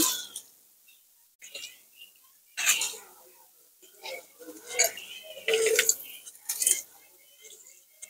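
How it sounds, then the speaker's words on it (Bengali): Soaked rice goes into a pot for egg biryani in short bursts of wet clatter, soft splashes and the scrape of a utensil, separated by quiet gaps and close to the listener. "এবার আমি ভিজিয়ে রাখা চালটা দিয়ে দিচ্ছি।"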